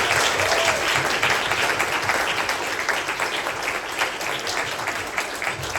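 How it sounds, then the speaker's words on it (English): A CPAC conference audience applauds a Colombian senator, a full, sustained roar of clapping from a large crowd lasting several seconds with little speech. "Everyone give me a round of applause for Senator Maria Fernanda Cabal."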